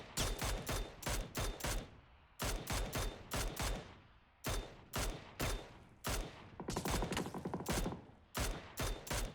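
Rapid bursts of automatic gunfire crackle through a PUBG Premier League esports match, loud repeated volleys separated by brief pauses, with no voices over them.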